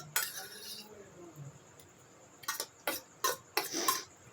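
Metal spoons, about a dozen, clink and rattle while being washed by hand, with a burst of clatter at the start and several short sharp clinks near the end, close by, with a faint tone steady in the background.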